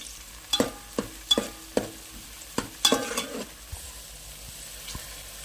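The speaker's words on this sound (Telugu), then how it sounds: "పచ్చిమిరపకాయలు వేగిన తర్వాత బాగా వేగి ఆ కారం అంతా నూనెకు పట్టాలంట" Green chillies fry in hot oil in a pan, with a faint sizzle behind a series of sharp scraping and tapping strokes from a spatula, sparse and uneven, fading toward quieter sizzling at the end.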